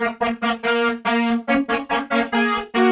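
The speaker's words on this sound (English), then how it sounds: "Then we're adding some multi-band compression, some distortion, some fruity chorus" A DX7 trumpet synth preset processed with multi-band compression, distortion and chorus plays a string of short, punchy brass notes, fuller and more horn-like, loud and alone.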